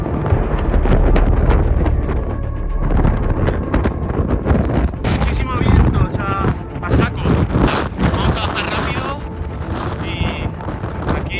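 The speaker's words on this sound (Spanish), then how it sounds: "Vamos, está soplando muy rápido." Strong wind buffets the microphone in the Slovenian Alps, a loud, roaring rush that surges and eases unevenly across the whole stretch, with a voice speaking partway through.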